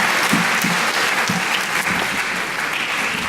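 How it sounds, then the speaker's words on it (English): A large audience at a high school honors ceremony applauds parents, loud and close, a thick continuous clatter of clapping with a few distinct nearby claps standing out. "Please give your parents a round of applause,"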